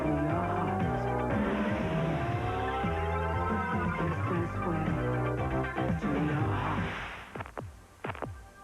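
A Dodge Daytona Turbo Z's tires squeal in a long, rising screech over a throbbing engine and backing music, then the sound breaks into a few sharp bursts before fading.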